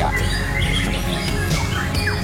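A white-rumped shama sings at a songbird competition: clear chirps and whistled phrases over a heavy, continuous background din of the crowded contest venue.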